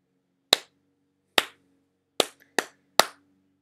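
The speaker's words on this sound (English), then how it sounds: "I'm gonna clap one more" Five sharp, isolated hand claps in a quiet room form an uneven rhythm: two widely spaced, then three closer together, each crisp and close with a short decay.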